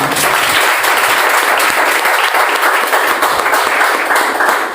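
A crowd at a motivational talk breaks into loud, continuous applause, a dense, even wash of clapping close by with no voices over it.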